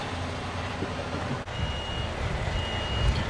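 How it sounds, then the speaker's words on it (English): Heavy machinery running at a truck loading site as a Genie boom lift is loaded onto a truck, a loud continuous engine rumble with a faint high steady tone over it. "here they are loading us with the boom lift genie machine"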